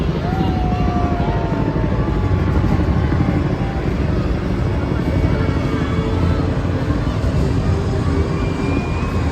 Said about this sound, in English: This capability close behind are H-64D Apaches that provide fire support for our land troops